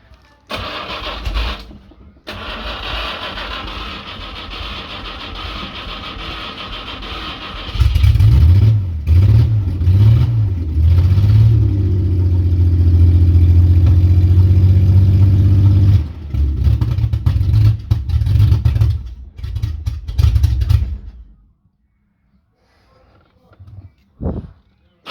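A 1971 Jaguar XJ6 Series I with the 4.2-litre engine, carburettors varnished and flooding, cranks and catches, then roars loudly with repeated revs before settling and shutting off, close by with a person talking.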